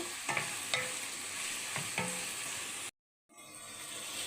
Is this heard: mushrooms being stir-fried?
yes